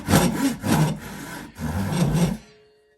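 A hand pull saw cuts into wood in a few rhythmic, rasping strokes, close and loud with no talking, then stops abruptly.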